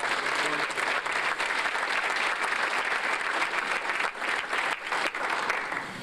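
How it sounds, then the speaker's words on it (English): Audience at a sports banquet applauds athletes with sustained, dense clapping from a large crowd, steady throughout and fairly close. "So how about a round of applause for these athletes?"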